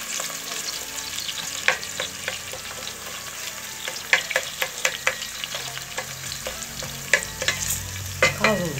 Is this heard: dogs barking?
no